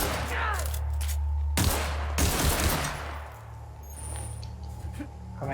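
Bursts of gunfire from The Outer Worlds video game, a few loud volleys separated by brief gaps, with a faint voice mixed in.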